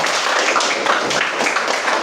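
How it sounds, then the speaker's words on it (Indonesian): A classroom of students gives a short burst of applause, a dense patter of hand claps lasting about two seconds. "Tepuk tangan untuk kita semuanya"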